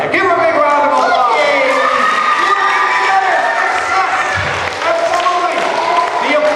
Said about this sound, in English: The applause is for you.